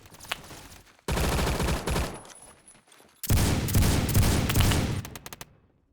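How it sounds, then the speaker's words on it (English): AN-94 rifle in Roblox Phantom Forces, several loud sustained bursts of rapid automatic fire separated by short pauses, close and punchy, ending with a few trailing single shots. "This gun, the AN-94. It's one that doesn't have that much recoil"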